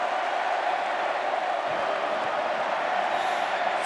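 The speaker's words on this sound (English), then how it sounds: "the chant is going around Patterson Stadium" A full-house crowd at Patterson Stadium during a 2011 AFL semi-final between West Coast and Carlton keeps up a dense, steady roar with a chanting character, distant and continuous throughout.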